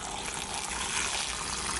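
Liquid coolant gushes at maximum flow on a Chinese milling machine, a loud, steady splashing hiss like a fully opened tap, continuous throughout with no talk.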